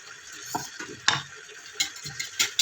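A spoon stirs water into flour or cornstarch for chopsuey, making soft irregular clinks and swishes against the bowl, quiet and close, with a few sharper taps toward the end.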